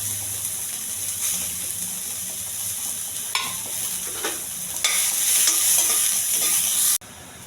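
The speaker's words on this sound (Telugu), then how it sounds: "కొంచెం నూనె, కరివేపాకు అండి, బాగా వేగించాలి" Curry leaves, onions and green chillies frying in a little oil, a bright steady sizzle with scraping stirs and clatters, swelling louder near the end before cutting off abruptly.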